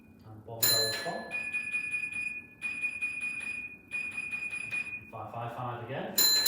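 A block bell on an Absolute Block signal box simulator rings in several bright, sustained metallic chimes with short pauses between strokes, heard clearly alongside people talking quietly nearby.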